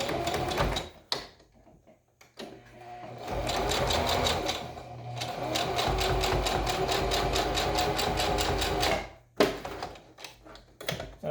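Home sewing machine stitching fabric for a homemade face mask, a loud steady mechanical whir running for several seconds between short pauses and brief handling noises.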